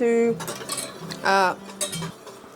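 A wire whisk stirs and clinks against a metal pot of homemade xylitol chocolate mixture over low heat, giving short scraping rattles and taps close by, mixed with brief vocal sounds.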